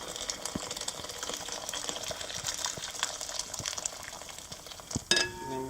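Freshly boiled filtered water pours from a kettle onto sugar, a steady, close hiss and trickle of liquid running for several seconds before a brief clink near the end.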